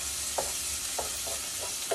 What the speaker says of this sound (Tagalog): nagisa ko na yung bawang at sibuyas. Haluin lang natin siya.